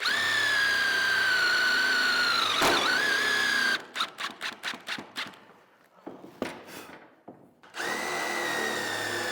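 A cordless power drill drives screws while building large wooden barn doors, a long steady whine, then a quick burst of rapid ratcheting clicks and short pulses before the drill runs again.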